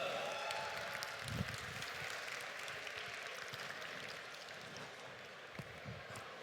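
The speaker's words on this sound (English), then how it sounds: "we give a big, loud cheer to our winners" A large crowd at an esports finals at the PLAYCON event claps and cheers for the winning team, a steady wash of applause with scattered louder whoops, fairly faint and distant.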